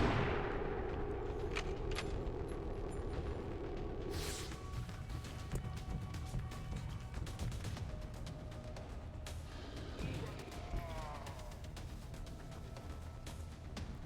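Gunfire in XCOM 2, a dense run of sharp shots and impacts over continuous battle noise, with a louder burst early and scattered cracks and whooshes through the rest of the combat.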